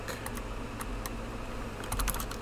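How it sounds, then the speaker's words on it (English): Steady clicking of computer keyboard keys as someone types, with brief faster bursts of keystrokes over a constant low hum. "I just realized that I was typing in caps."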